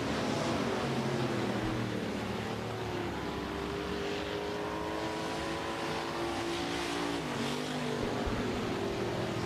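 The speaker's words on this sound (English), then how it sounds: "Final lap on the Rapid Speedway racing surface for the final heat for our USRA Hobby Stocks." USRA Hobby Stock race cars on the final lap of a heat race at Rapid Speedway dirt track, engines roaring continuously with rising and falling pitch as several cars pass, loud and steady throughout.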